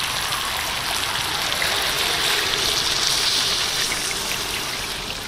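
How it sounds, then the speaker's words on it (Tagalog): Water being poured into a pan of simmering pork asado with kamote, a steady continuous rushing and splashing hiss that holds at an even level for several seconds with no talking. "Maglalagay na tayo ng tubig."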